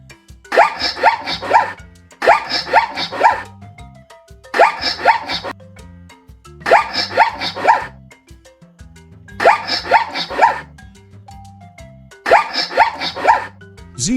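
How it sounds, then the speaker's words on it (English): A zebra calls in a series of six loud, rhythmic braying barks, each a quick burst of harsh yelping notes, spaced about two seconds apart and heard alone. "Zebra."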